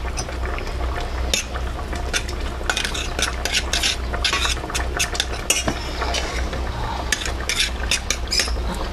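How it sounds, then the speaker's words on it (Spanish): Paprika stirred into onions in a pan off the heat, a dense continuous frying hiss with busy scraping and clinks from a utensil throughout, no one talking. "le añadimos una cucharadita de pimentón y lo freímos un poco"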